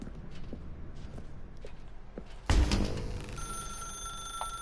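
A telephone rings in The Stanley Parable, a sudden loud burst of ringing after soft ambient footsteps, with a sustained electronic tone lingering afterward.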